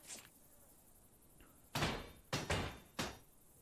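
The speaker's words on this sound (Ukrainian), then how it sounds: "І все, ящик ми закриємо" A wooden crate being closed in Destruction Simulator: a faint early knock, then four loud hollow slams and thuds in quick, uneven succession over a quiet background.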